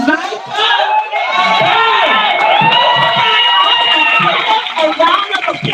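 A crowd at a general political meeting erupts in loud, sustained cheering and whooping with shouts rising over it, continuous and close throughout.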